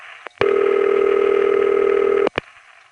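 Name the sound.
Gluggy ring, variant of standard city telephone ring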